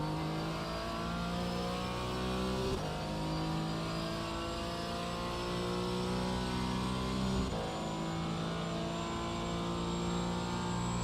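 Several GT4 race car engines in a racing video game set at Daytona, a steady mid-pitched drone with shifting harmonic whines and brief gear-change dips, continuous and fairly quiet with no talking.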